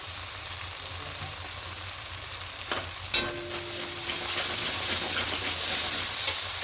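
Ground spices including Kashmiri chili powder sautéed in a pan for a vegetarian cauliflower and potato curry, a continuous close sizzle with occasional spatula scrapes and a sharper knock midway, no talking.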